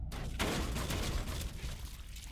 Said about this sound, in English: Let's turn the turret back on.